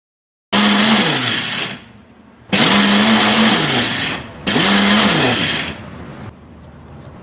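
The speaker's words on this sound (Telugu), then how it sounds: "మిక్సీలో వేశాక మూత పెట్టి 2-3 సార్లు మాత్రమే ఆన్ ఆఫ్ చేయాలి." A kitchen mixer grinder pulsing soaked jowar grains: three loud whirring bursts of roughly one and a half seconds each, with brief pauses between as the motor spins down.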